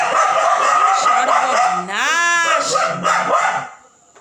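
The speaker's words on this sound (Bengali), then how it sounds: "বাইরে ওই যে বাইরের ডগিগুলো আওয়াজ করছে" Stray dogs bark outside a gate, a burst of yaps with a rising, whining cry in the middle, heard from a moderate distance and mixed with nearby voice sounds before fading out.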